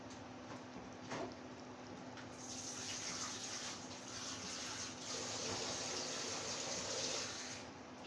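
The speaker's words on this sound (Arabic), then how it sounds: "خلاص بقى هزودها شويه ميه." Water pours from a tap into a cooking pot while fatta is being made, a soft, steady running gush that grows a little fuller partway through, faint and close with no talking over it.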